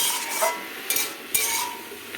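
Cabbage curry is stirred in a pan with a utensil. A soft hissing sizzle carries a few light scraping clinks, close and moderately loud, with no talking.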